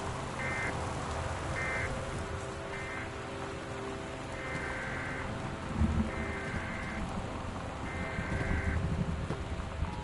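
Steady rain patters throughout a stormy night in the video game Gone Home, with a low thunder-like rumble near the six-second mark and faint repeating tones under the downpour.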